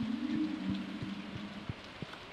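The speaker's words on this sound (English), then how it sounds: "Oh, sounds like it's raining." Soft, steady rainfall hiss in the video game Stardew Valley, with a low droning tone and a few dull periodic thumps beneath it, fairly quiet throughout.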